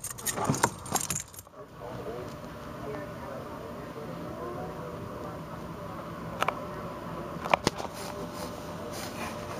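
Keys jingle close by in short metallic bursts, first near the start and again around six to eight seconds in, over a steady hum of a parked car's interior.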